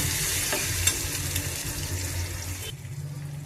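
Ground mango and onion paste frying in hot oil for a paneer mango curry, a close, steady sizzle with occasional stirring scrapes that cuts off sharply near the end.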